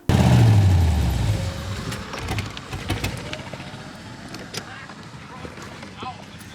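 A hot rod's engine with a stuck throttle bursts in loud and close, its deep roar sagging in pitch over the first second before settling into a rough, lower drone, while people talk over it.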